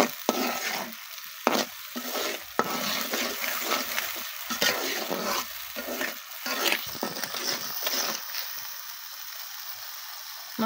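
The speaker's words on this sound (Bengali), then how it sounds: "মশলাটা একটু ভালো করে কষিয়ে নিচ্ছি, যাতে মশলার গন্ধটা না থাকে।" Spice paste fries and sizzles in a pan while a spoon stirs it steadily, producing a continuous hiss with scraping strokes during the preparation of a small-fish curry, close up and without talk.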